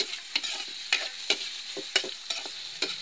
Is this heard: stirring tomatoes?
yes